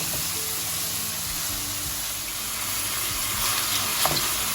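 Mushrooms sizzle and fry steadily in a hot pan as filling for turkey empanadas, with a continuous hiss, occasional stirring clatter and a brief louder scrape near the end.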